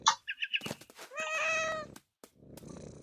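A cat in the game What Remains of Edith Finch gives a few short chirping meows, then a drawn-out meow, with a softer purr-like rumble afterward, close and clear with no speech.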